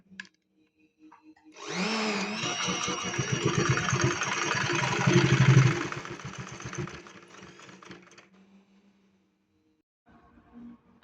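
A sewing machine runs a long stitching pass across fabric scraps for a doormat, whirring loud and close with a fast mechanical rattle for about six seconds. It then slows and stops, followed by faint handling noises.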